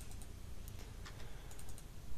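Typing on a computer keyboard, a quiet scatter of light, irregular key clicks close by over low background hiss, with no talk.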